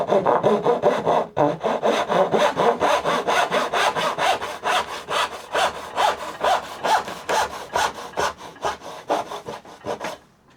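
A hand saw makes a test cut in pine, steady rhythmic rasping strokes, close and loud, running continuously with a brief pause early on.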